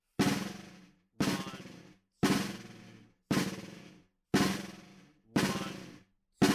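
A snare drum plays multiple bounce buzz rolls in quarter notes. Each stroke is a loud, close buzzing press that fades out before the next, with six evenly spaced buzzes and no voices.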